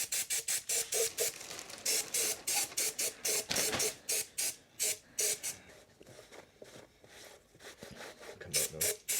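Spray cleaner on a Mini Cooper S engine cylinder, a quick series of sharp, close hissing bursts in an uneven rhythm, some short and some longer, with brief pauses between.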